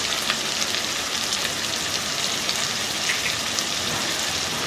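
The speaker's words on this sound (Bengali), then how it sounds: "খুব ভালো করে মশলাটা আমি কষিয়ে নেব।" Spices sizzling and frying steadily in a pan for a Bengali moya fish curry, a dense continuous crackle close up with no voices.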